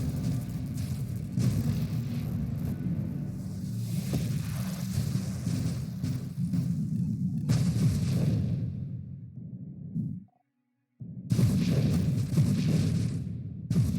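Explosions in the space shooter Nova Drift, a sustained low rumbling roar with whooshing bursts layered on top, loud and continuous, breaking into a brief silence before the blasts resume.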